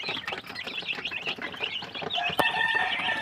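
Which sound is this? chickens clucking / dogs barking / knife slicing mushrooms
chickens clucking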